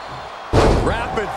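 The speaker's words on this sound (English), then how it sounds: "Rapid fire Samoan drop." A wrestler crashes onto the mat from a Samoan drop in a tag-team match, one sharp loud slam halfway through, followed by a roaring arena crowd with a commentator talking over it.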